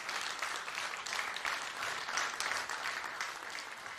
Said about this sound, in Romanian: Aplauze pentru această orchestră minunată.